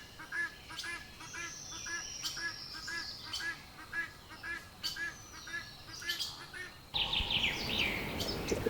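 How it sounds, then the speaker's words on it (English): Guinea fowl calling: a rhythmic series of harsh, repeated cackling calls at moderate distance, steady pulses for about seven seconds before a brighter, noisier burst of chattering birds. "Guinea fowl."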